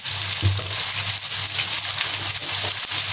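Chicken with turmeric and salt frying in a pan for tikka masala, a steady close hiss of sizzling with faint stirring taps and a low background hum, no talk.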